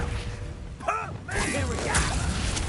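The Confringo spell goes off in Hogwarts Legacy: a quick whooshing cast followed by a fiery, crackling burst that sustains at close range, with a voice briefly heard over it.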